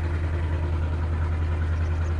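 A steady low tractor engine idle in Farming Simulator 22 hums continuously, even and unchanging, with no voices.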